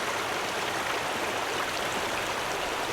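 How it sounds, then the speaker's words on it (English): Water trickles from a hanging camping filter bag into a container, a continuous hissing, splashing stream, close and steady with no separate drops or talk. "And then let the water just drip into a container."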